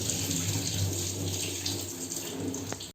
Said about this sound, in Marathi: आता हे 2-3दा चांगले आहे ना स्वच्छ धुवून घ्यायचे मासे.